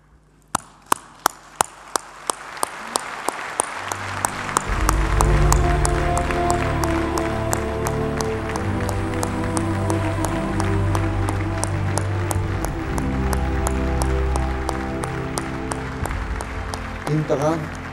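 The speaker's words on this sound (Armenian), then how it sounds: "բուռն ծափահարություններով։" A large audience at an Armenian Armed Forces 25th anniversary ceremony gives a standing ovation for fallen heroes. A few sharp claps swell into dense, loud, sustained applause that lasts throughout, with a low steady tone underneath.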